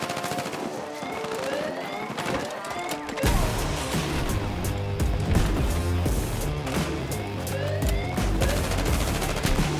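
Dense rapid gunfire in Battlefield 6, near-continuous automatic bursts and crashes that start after a quieter opening and stay loud, with faint voices underneath.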